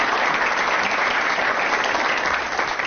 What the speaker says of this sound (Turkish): Burada alkışlarla Ceyhun'u uğurlayalım.